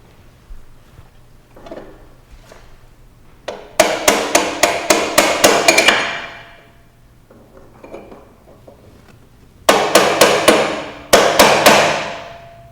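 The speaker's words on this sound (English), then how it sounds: "Now let's tighten the lock ring so the preload adjuster can't back off while you ride the bike." Hammer blows tightening the preload adjuster lock ring on a motorcycle's rear suspension: two bursts of rapid, evenly spaced metallic strikes, about eight in the first and a shorter pair of runs later, loud and close with quiet gaps between.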